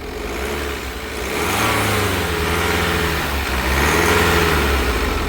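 A 2016 BMW 520d diesel engine is revved, rising in two swells of mid-pitched engine roar with no talking over it.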